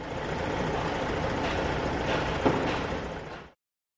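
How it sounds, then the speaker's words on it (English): A cement mixer truck in a children's truck-building video game gives off a steady, broadband engine rumble with a brief clank near the end, heard alone before cutting abruptly to silence. "Cement mixer truck."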